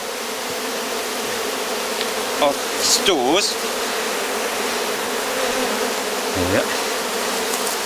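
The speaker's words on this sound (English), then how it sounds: "It's so full of bees now, there isn't a lot of space" Honeybees fill a crowded hive box with a dense, loud, continuous buzz, a few louder bees passing close by, and a voice murmuring briefly once.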